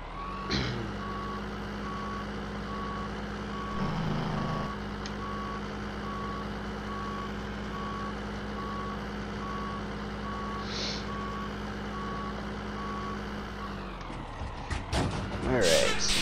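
A semi truck in Farming Simulator 15 backs up toward a hopper trailer, its reversing alarm beeping steadily over a constant engine drone, with a brief hiss and clatter near the end.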